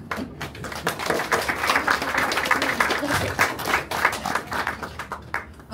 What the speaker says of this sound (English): It's another heartfelt applause.